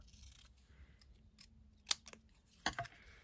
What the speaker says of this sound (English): I am just going to cut it straight off